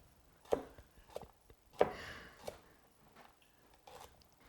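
A knife chops spring vegetables such as eggplant, peppers and broccoli on a cutting board, giving sparse, sharp taps at irregular intervals, with two stronger knocks standing out among fainter cuts in a quiet room.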